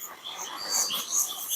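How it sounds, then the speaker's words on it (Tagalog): Crickets, birds and other insects call at night on a mountain. Faint, high, overlapping chirps and trills repeat continuously against an otherwise quiet background. "wala tayong ibang maririnig kundi mga kuliglig, mga ibon, at iba pa mga insekto"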